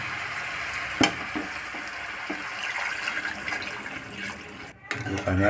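Water is added to a pan of frying rohu fish curry with tomato, a steady sizzle broken by a brief splash and bubbling near the end, close by.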